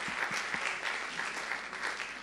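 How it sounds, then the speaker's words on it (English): Seminar audience applauding, a steady patter of many hands clapping together, fairly faint and unbroken from start to end. "another round of applause for a great sharing"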